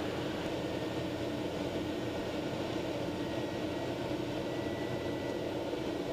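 A TBM 850 turboprop airplane taxis across a runway at a mountain-town airport, its engine a steady, even roar with a broad hiss, constant and close throughout with no talk.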